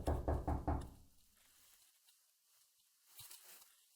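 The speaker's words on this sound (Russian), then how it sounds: "мне, по-моему, кто-то в дверь стучит" Knocking on a door, a quick series of four or five firm raps at the start, then quiet with a faint rustle and a soft thud later.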